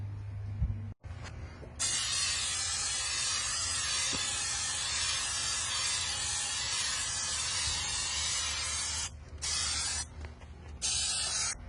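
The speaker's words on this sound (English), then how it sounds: "Now I'm going to bend this over and spray these areas and tack it up there." Spray adhesive hisses steadily onto hood insulation of a Ford Super Duty truck, in long continuous bursts with short pauses between them, close and fairly loud.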